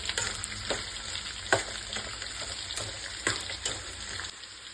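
Onion and curry leaves frying in oil for tamarind chitranna, a steady close sizzle with scraping stirs and sharp spatter pops throughout.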